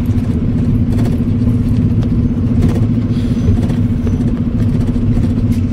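A car passes on a rural road below a ghat descent between Chikhli and Baramati, its steady engine hum holding close and loud for the whole stretch, with no voices heard.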